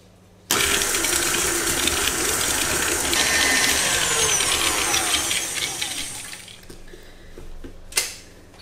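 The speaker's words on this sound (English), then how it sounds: "Use the whisk attachment and add the butter into the bowl, and into that add the sugar. Whisk until it's creamy and fluffy." A stand mixer with a whisk attachment whips butter and sugar in a bowl. The motor kicks on abruptly into a loud, steady whir for about six seconds, then winds down, ending with a brief clatter.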